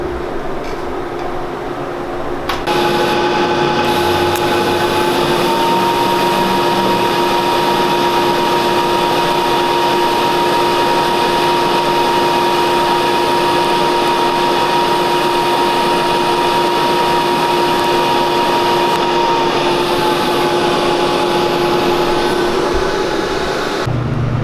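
A power drill bores into a steel shock mount on a 1600 HP Hemi Durango chassis, fitting a rear travel sensor: a loud, steady whine with constant pitch held for about twenty seconds, running alone without talk.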